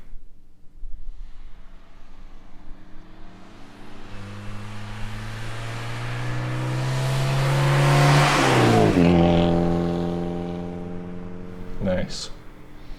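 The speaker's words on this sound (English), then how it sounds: "We got some really nice drive-bys in this little section." A car approaches from a distance with a rising engine note, builds to a loud pass-by with a pitch drop, then fades away; a short sharp noise comes near the end.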